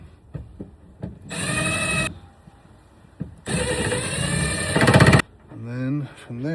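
A power tool whirs in two short high-pitched runs while 10mm bolts are tightened on a Silverado 2500HD third brake light, with light clicks and handling noises between the runs, and a voice speaks at the end.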